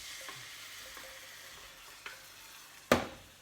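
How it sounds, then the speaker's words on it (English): Whole peeled tinned tomatoes go into a hot pan for beef meatballs, and the pan answers with a steady stir-fry sizzle and a few soft splashes and clatters, ending in a sharper hiss near the end. "peeled tin tomatoes, drop them in"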